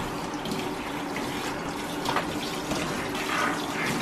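Tap water runs in a steady, moderate stream while dachshunds are showered at home, a continuous splashing flow with no speech over it.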